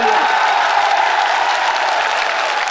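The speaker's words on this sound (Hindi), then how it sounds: "ऐसे कमजोर तालियों से काम नहीं चलेगा, जाना चाहिए दिल्ली तक आपकी तालियां।" Crowd applause at a large outdoor political rally, a public blessing gathering in Ladnun, with steady, dense clapping throughout the short stretch, fairly loud but not very sharp.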